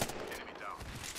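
Rapid gunfire in the Apex Legends battle royale game crackles steadily through a short, busy stretch, with a voice talking over the shots.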